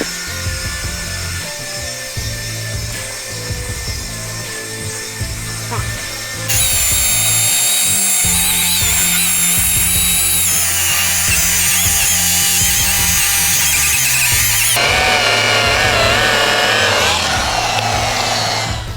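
A power sander or polisher whirs loudly and continuously up close on Mitsubishi Xpander car paint during wet sanding and polishing, its pitch shifting as the tool changes speed, with faint voices underneath.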